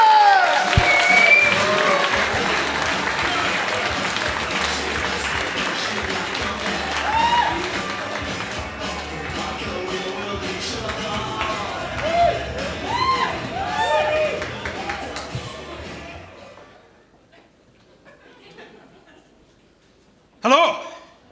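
A comedy club crowd claps and cheers as a comedian is introduced, with loud applause, whoops and voices for about fifteen seconds, then fading to near silence before a brief burst of sound at the end.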